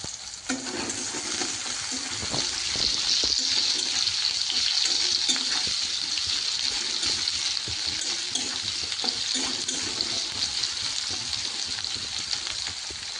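Onions fry in oil in a wok for a fish curry, a continuous close crackling sizzle broken by the scrape of stirring, with no talk over it.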